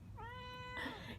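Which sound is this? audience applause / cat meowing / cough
cat meowing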